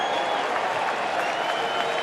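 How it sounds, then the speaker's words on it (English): Sustained applause from a large baseball stadium crowd as the manager walks out, a dense, even patter of clapping that holds steady throughout with no pauses. "Now they're going to clap because here comes the skipper."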